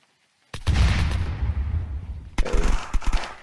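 Bursts of gunfire in the video game Unturned: a loud, close volley of rapid shots rings out for about two seconds, then a second sharp burst of several shots follows, with no talk.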